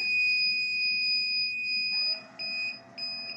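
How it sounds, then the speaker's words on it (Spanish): An Arduino reversing sensor's buzzer alarm sounds a steady high electronic tone, then switches to repeated rapid beeps in short bursts, clear and alone with no talk. "sigue constante la alarma visual y auditiva"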